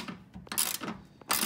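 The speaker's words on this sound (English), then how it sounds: "So I'm gonna go ahead and wrench that down and then come back to you." Ratchet wrench tightening a seatbelt bolt on a VW Bus, heard as a few quick bursts of metallic ratcheting clicks, close by and fairly quiet, with no talking.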